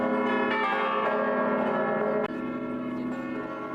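A church bell in Malta ringing continuously during Holy Week, rich sustained tolling with layered overtones that keeps sounding without a break, loud and steady, one fresh strike near the middle.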